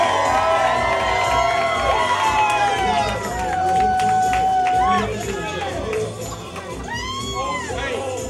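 Wedding guests cheer and shout for the bride and groom, a loud, busy crowd with whoops and raised voices over clapping that eases slightly toward the end.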